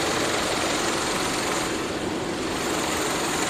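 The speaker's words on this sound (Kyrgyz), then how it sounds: "Учурда машина от алып турат." A 2018 car engine idles up close in a steady, dense, even rumble with no voices.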